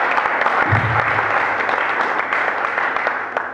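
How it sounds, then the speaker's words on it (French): A church congregation applauds loudly during an Easter-week service, a dense and sustained clapping that goes on without a break. "Acclamez très fort."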